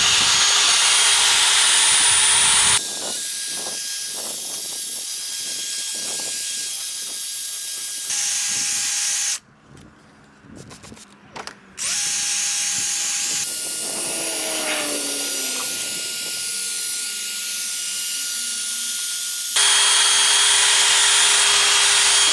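A car headlight is polished with a 3M headlight restoration kit, giving a loud, steady electric whirring hiss. The whir cuts out briefly in the middle, then resumes at the same level until the end.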